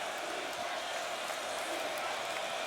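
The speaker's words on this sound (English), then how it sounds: "Irish crowd making a little noise here." A college football stadium crowd at Notre Dame makes a steady, distant roar of cheering, a broad wash of noise with no clear peaks.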